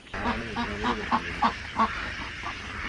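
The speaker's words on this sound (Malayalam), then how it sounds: "ഇവിടെ വന്നവിടെ രാവിലെ തന്നെ കാണാൻ പറ്റുന്ന കാഴ്ച വെച്ചാൽ താറാവ് കൂട് തുറന്ന് വിട്ടു കൊടുത്തിട്ടുണ്ട്" Ducks let out of their coop at a fish farm in the morning quack and honk repeatedly in a noisy, overlapping flock, fairly distant against steady outdoor background noise.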